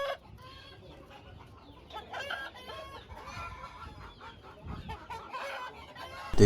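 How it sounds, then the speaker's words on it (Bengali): A Brahma rooster and chickens cluck and call in a busy farm coop, with repeated close clucks and a brief crowing burst, alone without talk. "মূলত এই ব্রাহ্মা মোরগটি কেনার জন্য আমি তার খামারে গিয়েছিলাম।"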